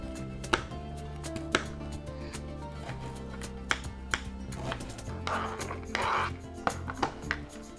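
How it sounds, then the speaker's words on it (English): A knife chops an onion on a board, a string of sharp, irregular thuds close by over soft background music, in a home kitchen while making an easy chickpea curry. "We start by chopping the onion."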